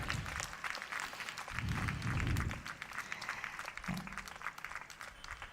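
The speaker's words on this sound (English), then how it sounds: "Can we give a round of applause to them as well?" Distant, fairly faint crowd applause at a school's annual sports meet finals, honouring a combined band display, steady clapping with low rumbling bursts of wind or handling noise.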